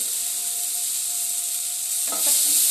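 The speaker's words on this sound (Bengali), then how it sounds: "তেলের মধ্যে একটু নাড়তে চাড়তে হয়" A steady hiss of spices frying in oil, joined near the end by a brief scrape of stirring, close by and without speech.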